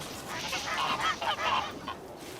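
Geese honking on a North Korean cooperative farm, a busy cluster of overlapping nasal calls at moderate distance with some ducks among them, steady flock chatter rising and falling over a couple of seconds.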